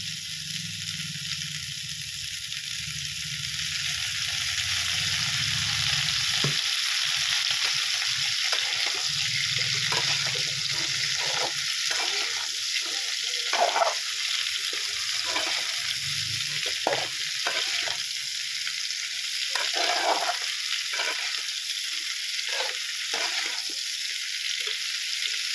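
Cauliflower curry fries in hot oil in a pan, a continuous bright sizzle broken by repeated scraping stirs of the spoon, close and fairly loud, with no talking.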